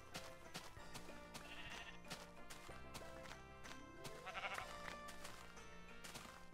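Sheep in Minecraft bleat a few times, moderately close, over a busy background of rhythmic game sounds and music.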